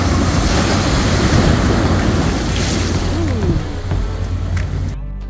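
Ocean surf rolls onto a Monterey Bay beach at San Carlos Beach Park, a loud, close, continuous roar of breaking waves with wind buffeting the microphone, cutting off abruptly at the end.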